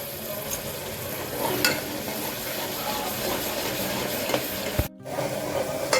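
Oil sizzles loudly and steadily as a spoon scrapes and stirs spices, red chilli powder and turmeric through a pan, with a brief break near the end.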